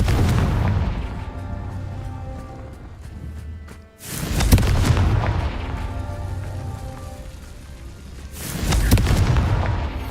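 The Confringo fire spell is cast in a video game's Merlin trials, producing deep booming blasts that rumble on with a long roar before a second heavy burst, loud and close.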